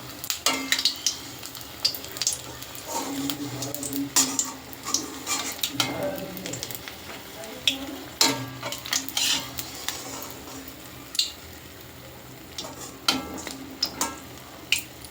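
Bakful flower fritters are lifted out of frying oil with a soft sizzle underneath, while repeated clinks and scrapes of a metal spoon against the pan come in irregular bursts.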